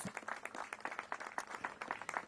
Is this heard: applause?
yes